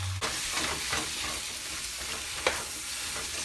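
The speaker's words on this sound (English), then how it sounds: "Fry the Chinese broccoli with the egg and your meat" Chinese broccoli fries in a wok with egg and meat for Thai pad see ew, a constant hissing sizzle broken by a few brisk stirring scrapes, heard up close with no talking.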